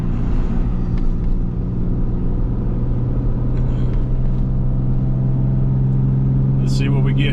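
Ram 3500 dually engine pulling uphill in second gear while towing a CAT 310 excavator, a loud, steady low rumble with a rising hum, heard from inside the cab.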